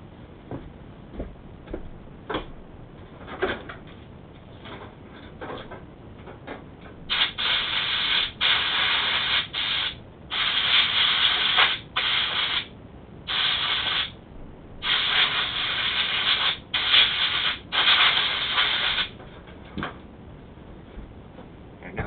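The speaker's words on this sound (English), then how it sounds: "I'm going to blow it off real quick with the air gun." Compressed air from an air gun blasts dirt off a two-stroke diaphragm carburetor in a series of hissing bursts. The bursts start as faint short puffs and grow into longer, louder blasts with brief gaps between them.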